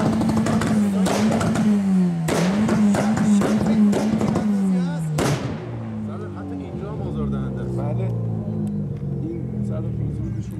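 A car with an aftermarket part fitted inside its exhaust revs hard in repeated loud bursts during a Tehran traffic police inspection. The engine settles into a lower rumble near the end.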